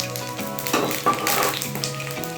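Whole spices such as green cardamom, cloves, cumin and cinnamon frying lightly in oil for a chicken curry, a soft steady sizzle with a few faint stirring scrapes.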